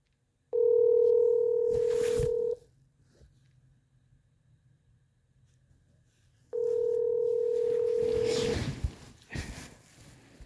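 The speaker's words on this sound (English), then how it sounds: "It just keeps ringing, so I can wait." A telephone ringing tone sounds on a call: two long steady buzzing rings about two seconds each, separated by several seconds of near-silent line hiss, with some faint handling noise after the second ring.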